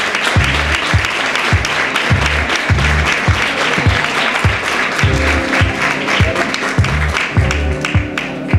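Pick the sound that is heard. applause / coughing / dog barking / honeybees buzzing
applause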